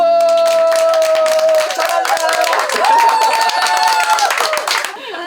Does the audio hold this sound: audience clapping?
yes